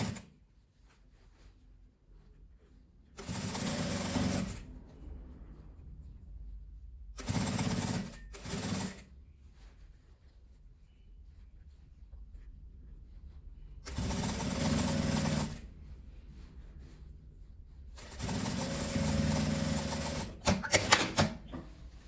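A sewing machine stitches a pleated beret in four fast, whirring runs of a few seconds each, close and fairly loud, separated by quiet pauses with light handling noise.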